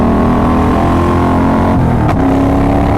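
A loud motorcycle engine roars continuously at high revs on full throttle, with a quick shift in tone near the end as it keeps pulling hard.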